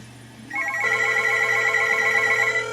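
An Echo Connect line rings for an incoming call: a steady electronic ringtone starts after a brief quiet moment and continues alone at close range.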